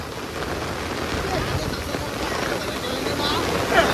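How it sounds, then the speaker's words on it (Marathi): Heavy stormy rain pours down steadily in a dark downpour over a flooded creek where boats were overturned, a dense loud hiss throughout with no pauses. "डेंजर तुफान असा पाऊस आलेला आहे"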